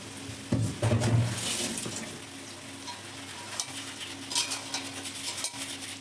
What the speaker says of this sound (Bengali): ভালো করে নেড়েচেড়ে নিচ্ছে মশলাটাকে